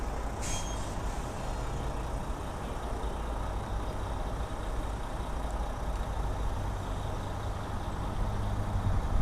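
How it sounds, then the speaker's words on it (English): Tour buses idle and pass on a commuter road, a steady low diesel rumble with a sharp air-brake hiss near the start, loud and continuous without speech. "Yeah, tour buses are definitely around"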